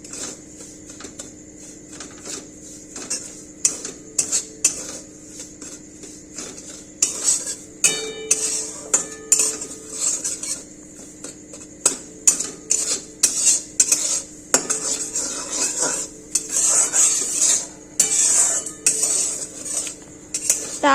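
Semolina (suji) stirred and roasted in a pan: frequent metal spoon scrapes and clinks against the pan in an irregular rhythm, close and fairly loud, over a quiet steady background with no talking.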